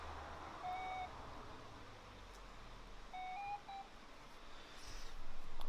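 Oudie 4 flight instrument variometer gives short electronic beeps in small clusters at varying pitches, clear over a low background hum that swells toward the end.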